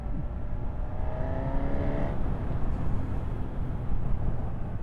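A 2025 Honda CB1000 Hornet, a 1000cc four-cylinder, drones steadily while riding, its engine tone briefly rising then fading into constant wind rumble and road noise.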